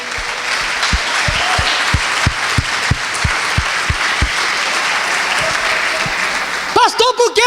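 Church congregation clapping during a family worship service, loud sustained applause with sharp individual claps standing out, a voice breaking in near the end.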